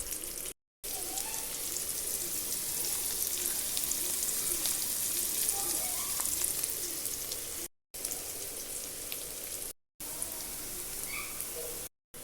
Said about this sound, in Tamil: ஒரு பெரிய வெங்காயத்தை பொடிசாக அரிஞ்சு சேர்த்துக்குவோம். வெங்காயம் பொன்னிறம் வர அளவுக்கு வதக்கி எடுத்துக்குவோம்.